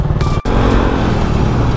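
Heavy road traffic is heard from a Yamaha Mio Sporty scooter as a loud, close, continuous rumble of engine and wind noise with a brief dropout near the start. No one speaks.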